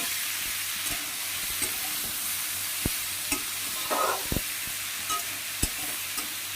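Snake gourd fries in a pan with a steady, close hiss of sizzling oil, broken by intermittent clicks and scrapes of a spatula stirring, with no talking.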